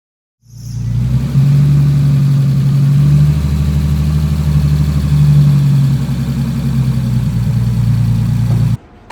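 A Honda S2000 running a Link ECU, after a no-start problem, fires up and settles into a loud, steady idle that swells twice in mild revs, then cuts off abruptly, with no talking.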